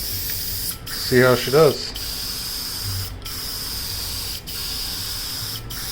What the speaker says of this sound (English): So let's get a couple test sprays and